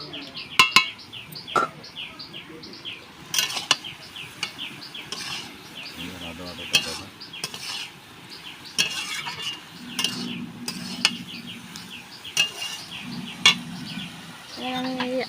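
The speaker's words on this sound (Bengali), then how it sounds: "একটু নেড়ে নেব।" Potatoes being stirred in a pan while cooking, with repeated clinks and scrapes of a utensil against the pan over a soft sizzle; faint birdsong in the background, no talking.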